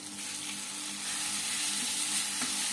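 Garlic paste sizzles steadily in hot spiced oil for a spiced eggplant dish, a close, even frying hiss with faint stirring and no talk.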